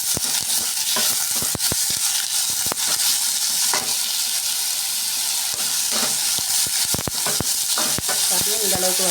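Something sautés in a pan with a constant close sizzle and hiss, broken by frequent sharp spatula scrapes and taps against the pan throughout.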